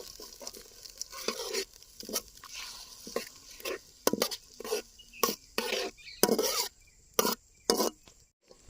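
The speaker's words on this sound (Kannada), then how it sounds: "ನೋಡಿ ಇವಾಗ ಈರುಳ್ಳಿ ಹಾಕ್ತಾ ಇದ್ದೀನಿ, ಸಣ್ಣದಾಗಿ ಹಚ್ಕೊಂಡಿರೋದು" Chopped onion goes into a hot pan for cabbage manchurian, with repeated sharp clatters and scrapes of a spoon against the pan over a faint sizzle, in bursts at an uneven rhythm and close by.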